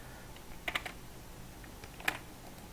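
Shortcut keys tapped on a computer keyboard while working in Adobe Illustrator: a quick cluster of three or four clicks, a pause, then one sharper keystroke, close and fairly quiet.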